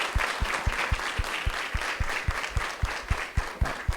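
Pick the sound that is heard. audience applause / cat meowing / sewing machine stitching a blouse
audience applause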